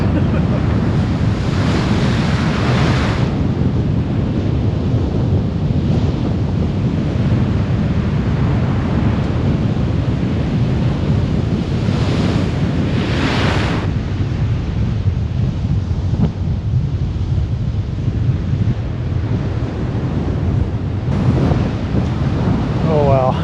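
Steady roar of ocean surf and gusting wind on the NSW Central Coast of Australia, with waves breaking in continuous loud washes and heavy wind buffeting the microphone throughout.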